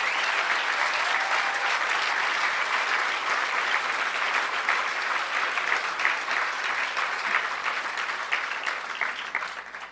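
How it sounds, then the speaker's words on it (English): A conference audience at a hacker event claps warmly for Emmanuel and 2600 Magazine, a sustained, even wash of applause that holds for the full span before tapering slightly at the end. "So I think we should give a round of applause to Emmanuel and 2600."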